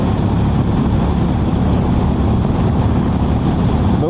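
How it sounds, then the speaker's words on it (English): Hero Hunk 440 motorcycle engine rumbling steadily while riding, a constant loud low drone with no gear changes or pauses, alone without talk. "that engine rumble is quite a nice sound"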